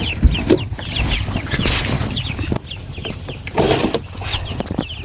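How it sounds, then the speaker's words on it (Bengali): A brood of Khaki Campbell ducklings peeps in rapid high chirps, dense and close, while being handled and caught on a farm, with bumps and rustling in between. "সো আমরা ধরবো এখন চল্লিশ পিস হাঁসের বাচ্চা দেখেন হাঁসগুলো কত ফুরফুরে এবং সুস্থ"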